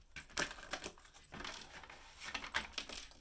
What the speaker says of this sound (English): I just want a really good shuffle, please.